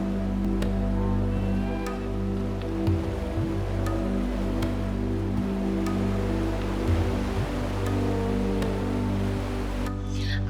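Sea waves rolling onto the shore at Puri on a morning beach walk, a steady broad wash of surf with no distinct breaks, moderately loud and continuous throughout, with faint distant background activity.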